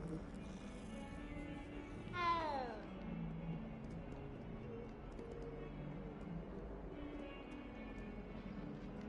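A cat in Hogwarts Legacy gives a single short, rising-then-falling meow, faint under steady game ambience, while a person speaks quietly in the background.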